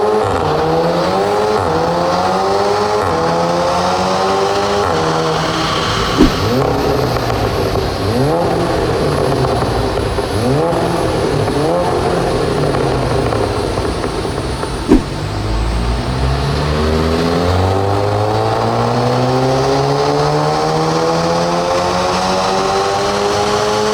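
A Stage 2+ tuned Seat Leon Cupra 280 producing around 380 horsepower revs hard and accelerates through several gears. The loud, continuous engine note climbs repeatedly, with brief dips at the shift points and no voices.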